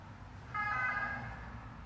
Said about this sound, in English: I think that might have been a broken ambulance.